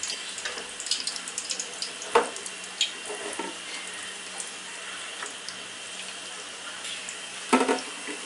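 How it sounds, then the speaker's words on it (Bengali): Singara samosas deep-frying slowly in medium-hot oil, a steady soft sizzle with occasional pops and clinks, fairly quiet and alone. "এখন এই টেম্পারেচারে ধীরে ধীরে ভেজে নিতে হবে সিঙ্গারাগুলাকে।"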